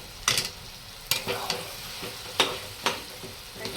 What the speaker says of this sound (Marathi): घ्यायचं ह्याला असं सारखं हलवायचं फुल गॅसवर